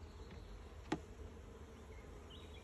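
A bee caught in a bee trap while a honey super is added to a hive gives a brief close buzz near one moment amid quiet outdoor ambience.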